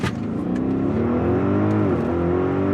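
An Audi RS Q8 SUV launching at maximum acceleration from a standstill, its engine roaring loudly and climbing steadily in pitch through the gears, heard from inside the cabin.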